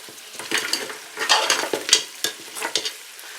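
Goat trotters fry with garam masala in a pan, loud stirring scrapes and clatters coming in bursts over a soft sizzle, close and without talk.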